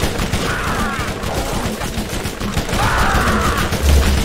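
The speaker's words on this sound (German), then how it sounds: "Ich schieße einfach drauf los in der Hoffnung, dass es funktioniert" Continuous gunfire from shooting in the video game Borderlands, a dense rattling fusillade that runs steadily and fairly loud for the whole stretch, with no talk over it.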